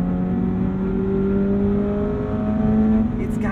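A Subaru BRZ with a manual gearbox revs high in its upper range, a steady whining engine note rising slowly in pitch, loud and continuous from inside the car.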